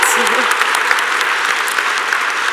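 An audience applauds at the Blossom Ball 2023 gala, a loud burst of crowd clapping that carries on steadily through the clip, close and dense.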